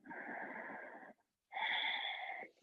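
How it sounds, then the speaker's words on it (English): A yoga instructor exhales audibly through the mouth during a vinyasa flow, two long breathy rushes of air close to the mic, separated by a brief silent pause. "One more exhale."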